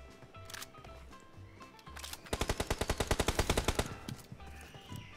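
Rapid automatic gunfire in a first-person shooter video game, a tight burst of about fifteen evenly spaced loud shots over roughly a second and a half, with quieter scattered in-game sounds before and after.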